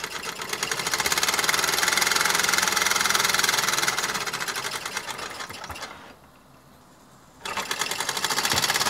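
A 1972 Mamod SR1a toy steam roller's steam engine runs at high speed, a rapid, close mechanical chatter of piston beats that slows and softens briefly before speeding back up.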